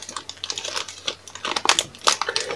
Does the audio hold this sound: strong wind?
no